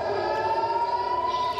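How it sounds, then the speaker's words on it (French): Civil defense air raid sirens wail steadily over Tel Aviv during a rocket barrage, a sustained droning tone carrying across the city without pause and with no voices. "ce déluge de feu déclenche immédiatement les sirènes"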